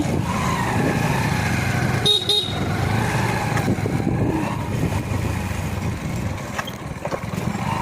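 Engine rumble of two motorcycles carrying six riders along a road near Joy Chandi Pahar, Purulia, with a couple of short horn honks and passing traffic noise throughout.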